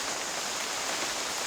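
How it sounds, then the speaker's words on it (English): Steady rain beginning to fall outdoors on an overland road trip, a close, even hiss of drops spread across the whole stretch with no talking. "Unbelievable. Now it starts raining."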